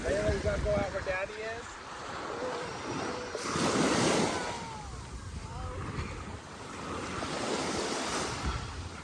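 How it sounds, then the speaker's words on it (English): Gentle ocean waves washing in and receding on a beach, soft and steady with wind noise and a faint voice early on. "the waves are definitely sounding pretty nice. They're calm, subtle"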